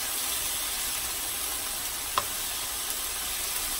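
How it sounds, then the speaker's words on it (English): Meatballs brown in a pan on high heat, sending up a constant close, dense sizzle, with a single sharp tap of a utensil partway through. "And now I'm just browning the meatballs."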